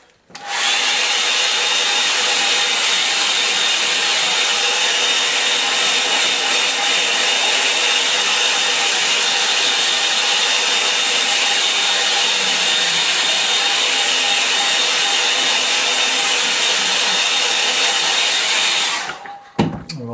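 A hair dryer blows on a wet watercolour painting of an autumn sunrise over a lake, a loud, steady whooshing roar held close for about nineteen seconds before cutting off.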